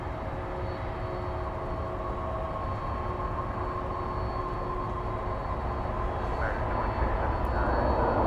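A Boeing 787-9 Dreamliner lands at DFW Airport after a transatlantic flight, producing a steady, broad jet-engine roar that swells slightly toward the end, with faint voices in the background.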